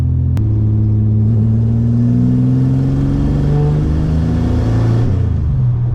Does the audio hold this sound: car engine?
yes